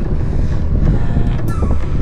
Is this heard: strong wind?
yes